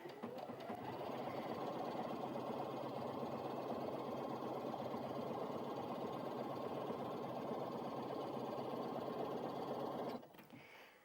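A Brother Innov-is A50 sewing machine runs a back-and-forth stretch stitch, a steady close whirring hum for about ten seconds before stopping abruptly.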